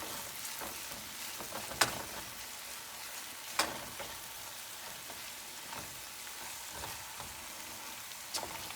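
Onions and garlic cooking in a pan, a faint, even crackling hiss like light rain, with two or three soft clinks of a utensil, quiet and steady throughout, no talking.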